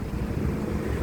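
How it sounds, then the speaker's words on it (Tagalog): Strong wind buffets the microphone, a steady low roar and rumble filling the whole moment. "Malakas ang hangin"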